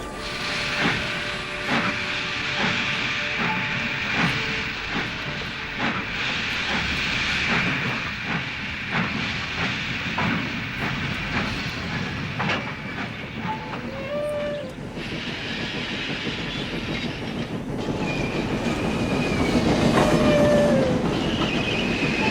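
A steam engine named James pulls away with its passenger train, hissing and chuffing with wheels clattering over rail joints, brief whistle-like squeals, and the rumble swelling louder toward the end; nobody speaks.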